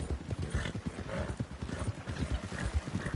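Rapid clip-clopping hooves of a running horse in the video game Red Dead Redemption 2, a dense rhythmic patter close by that continues throughout, with a faint whinny in the mix.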